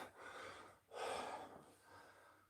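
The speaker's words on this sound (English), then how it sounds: "Breathing on the wrong rhythm." Heavy, close breathing during a leg workout: three labored breaths, with the middle intake the loudest and harshest, and no talking.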